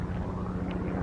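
A Guidance Air tour helicopter flying overhead near Sedona, giving a steady low engine drone with a rough rotor rumble, moderately loud and unbroken for a moment without talk.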